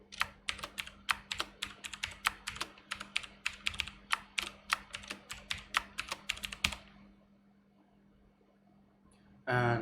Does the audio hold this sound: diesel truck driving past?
no